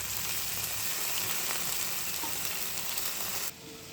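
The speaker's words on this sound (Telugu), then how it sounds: "వేసుకొని ఇవి బాగా ఫ్రై అవనివ్వాలి" Potatoes, carrot and cabbage frying in oil in a pan for homemade noodles, a steady close crackling sizzle that runs evenly before dropping abruptly to a quieter hiss near the end.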